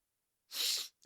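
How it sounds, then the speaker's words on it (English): A single big sneeze, short and sharp, close up after a moment of silence. "Only when it's a big bad sneeze."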